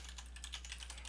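Touch typing on a computer keyboard, a fast, even patter of soft key clicks close by with no talking, over a low steady hum.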